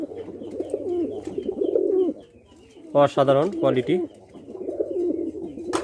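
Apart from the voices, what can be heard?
pair of white fantail (lakkha) pigeons cooing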